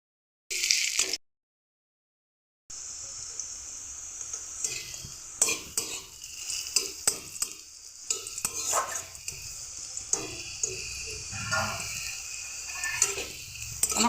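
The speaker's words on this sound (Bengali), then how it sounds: "আমার করলাটা ভাজা হয়ে গেছে, এবার করলাটাকে আমি তুলে নেব।" Bitter gourd fries in hot oil in a wok, with a steady sizzle broken by repeated scraping and clinking of a spatula as it is stirred. A brief silence comes first.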